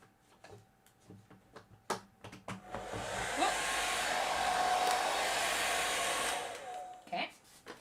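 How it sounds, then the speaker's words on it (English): A handheld hair dryer on its cold setting blows in a steady whooshing roar for about four seconds, preceded and followed by small clicks and handling knocks near a crafting table. "I first of all plug in my hairdryer, because we're going to need that soon"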